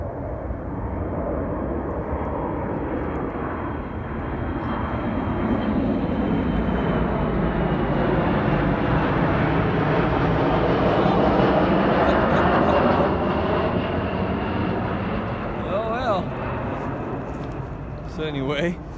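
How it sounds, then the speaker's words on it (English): An airplane coming in to land passes over a riverside hammock campsite, a broad engine roar that swells to a peak midway and slowly fades, with a rising and falling tone sweep. The sound carries on alone. "there's an airplane coming in for landing"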